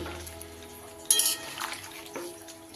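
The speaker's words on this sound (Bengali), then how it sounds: "বাটি ধুয়ে একটু জল দিয়ে দিলাম" Water poured from a rinsed bowl into a cooking pot of vegetables for a milky shukto, a short splashing pour followed by light liquid trickles and faint clinks in a quiet kitchen.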